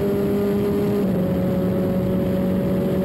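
A British F3 race car with a 2-litre engine drones steadily at Monza, a close, loud onboard engine note holding a near-constant pitch with a slight shift partway through.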